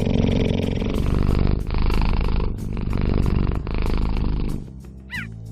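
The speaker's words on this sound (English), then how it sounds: "Instead, these carnivores purr," A cheetah purring in long, loud, continuous rumbling stretches, broken by brief pauses, close up and without talk, with a short higher call near the end.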